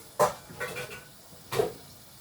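Rice being washed in a pot gives a few separate scraping, clattering knocks of grain and water against metal, each brief and spaced apart, with quiet gaps between them and no voices.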